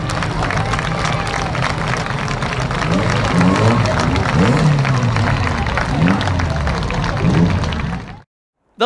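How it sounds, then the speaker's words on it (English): A crowd applauding and cheering for the defending champion at a Trackstar Racing event, a loud, dense wash of clapping with shouts and babble throughout, cutting off abruptly near the end. "We can get the round of applause going for our defending champion"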